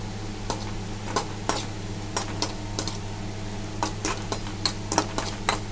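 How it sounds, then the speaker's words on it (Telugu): Urad dal and cumin sizzle softly, lightly frying in a hot pan, with scattered light clinks and scraping stirs over a steady low hum. "మినప్పప్పు కొంచెం లైట్గా ఫ్రై చేసుకుందాం"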